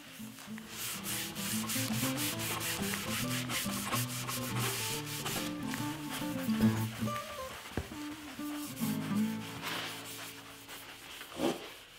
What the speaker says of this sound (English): I'll use a clean rag, get a good amount of wax on the rag, and then apply it to the board.